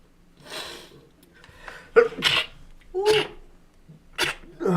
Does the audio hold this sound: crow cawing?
no